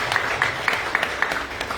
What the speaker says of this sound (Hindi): पहले जोरदार ताली।